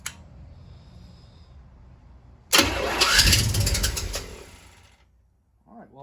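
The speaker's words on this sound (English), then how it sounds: "kind of got it on the starter for you guys to see if it does it this time" A Chevy 350 engine cranks on the starter, a quiet lead-in giving way to a sudden loud churning burst of cranking that rumbles for about two seconds before fading out.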